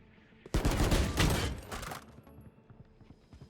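A rapid burst of automatic gunfire in the video game Valorant, loud and close, rattling for about a second and a half before trailing off into quiet.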